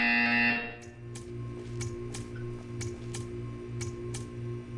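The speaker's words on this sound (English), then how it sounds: "You will hear a buzzer." A buzzer in the video game Portal 2. A loud tone cuts off sharply, followed by a rhythmic series of short, evenly spaced electronic pulses over a steady machine hum.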